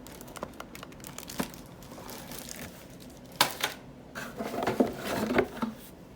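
Packaging crinkles and rustles while a Walmart fish tank box is opened, with intermittent close plastic and cardboard crackles, small knocks and a louder burst of crinkling toward the end, and no talk.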